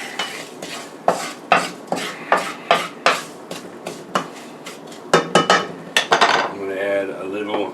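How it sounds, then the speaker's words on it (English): A spoon stirs a mixture into a roux for scratch gumbo in a pot, producing a rhythmic series of sharp scraping knocks against the metal, about one per half second, then a faster flurry before a brief voice. "Mix that into our roux."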